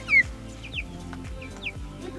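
Meat chickens moved out onto grass cluck softly in a few short calls, with brief higher chirps and a low rhythmic thumping underneath; no one speaks.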